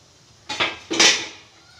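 Metal lid and plates of a hot idli vessel clank as steamed chakli dough is lifted out, two quick close clattering knocks followed by a short ringing fade.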